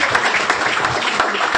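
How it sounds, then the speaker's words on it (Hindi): Applause from an audience at a company anniversary event, a steady dense wash of clapping with a few sharper claps standing out, fairly loud and filling the whole clip with no talk over it. "चाहूंगा इनके लिए एक बार जोरदार तालियां"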